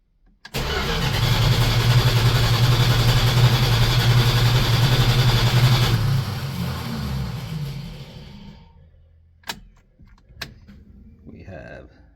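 A 1971 Dodge Dart GT Swinger with homemade fuel injection cranks and fires, then runs steadily and loudly for several seconds before dying down, followed by a couple of sharp clanks and a brief voice.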